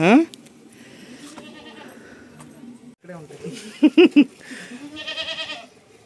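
A baby goat lying beside its mother bleats in a few short, loud cries near the end, with other goat calls and people talking on a farm around it.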